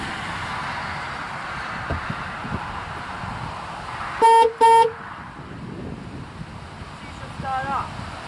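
Two short, loud honks from the horn of a 1995 GMC Suburban sound in quick succession amid steady wind noise outdoors, with faint background sounds before and after.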